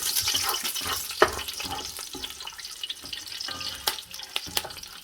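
Cumin seeds, fennel seed, a chili, a bay leaf and curry leaves sizzle in hot oil, with irregular sharp pops and crackles scattered over a soft continuous frying hiss, close up.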